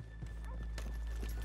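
Horses in Red Dead Redemption 2 whinny and clop their hooves on a town street, brief and mid-distance, over steady game ambience.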